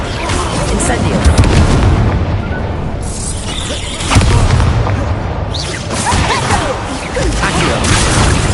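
Fiery spell blasts from Hogwarts Legacy gameplay, dense booming whooshes and crashes layered over a continuous roar, with louder bursts near the start, middle and end amid busy game noise.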